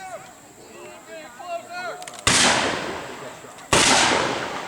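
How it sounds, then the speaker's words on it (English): Black-powder gunfire at a historical battle reenactment at Fort Henry: two loud, sharp reports each ring out with a long decaying tail, preceded by distant crowd noise and chirps. "I think you'll hear plenty of shooting to drive them off."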